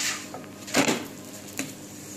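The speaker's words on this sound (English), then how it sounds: "Then again flip it over" An onion paratha flipped on a hot pan: two short clattering knocks of utensil against pan, a few scrapes between, fairly close and quiet with no talking.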